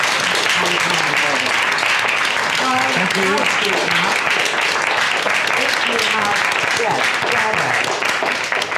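An audience gives loud, sustained applause for a guest at the close of an in-conversation event, the dense clapping continuing throughout while voices speak over it.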